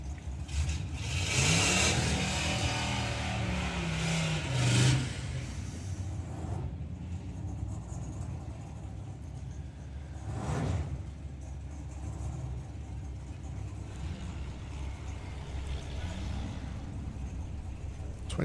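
A four-cylinder drag car at a nostalgia drag racing meet roars hard down the strip early on, then a fainter engine rumble returns later, with someone commentating over it.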